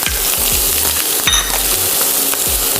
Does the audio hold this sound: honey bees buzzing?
no